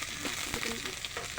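Onion and ginger-garlic paste frying in hot oil, a steady close crackling sizzle with a few soft stirring scrapes.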